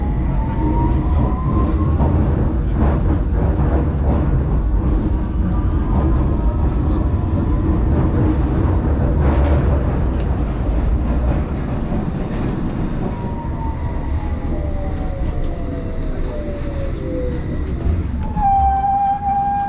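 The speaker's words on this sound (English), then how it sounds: "This is a Circle Line train via Victoria and High Street, Kensington." A London Underground Circle Line train runs with a loud, continuous low rumble and rattle, a rising and falling whine, and a high squeal near the end, heard from on board.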